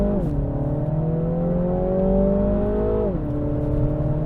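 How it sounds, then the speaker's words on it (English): A 2024 Mini Cooper S Hardtop accelerating hard from a standing launch, its exhaust droning loud and steady from inside the car, with the pitch rising as revs build and dropping at a gear change. "Exhaust sounds good."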